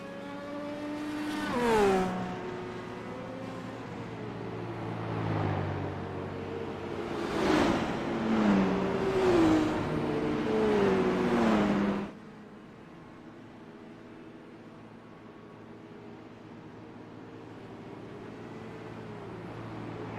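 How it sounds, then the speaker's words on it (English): IndyCar race cars in a racing video game roll single file behind the pace car through turns one and two at Auto Club, engines rising and falling in pitch for about twelve seconds before dropping to a low steady hum. "As the field begins to gather themselves up single file behind the pace car, working their way through 1 and 2."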